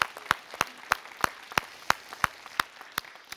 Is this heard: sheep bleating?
no